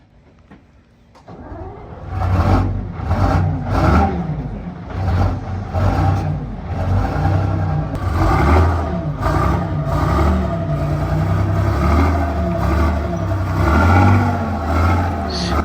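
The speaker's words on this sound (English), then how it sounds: "With the engine all running now, it's time to test the gearbox and the steering to make sure the vehicle's all safe to drive." Ex-military truck engine at an MOD disposal site, idle for about five years, starts and settles into a loud, steady low rumble with bursts of revving as it is driven close by.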